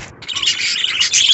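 A large flock of parakeets in a cage chirps continuously in a busy, high-pitched chatter, close and loud with no voices.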